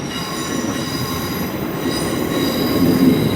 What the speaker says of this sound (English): Departing out is this TfL Rail Class 360.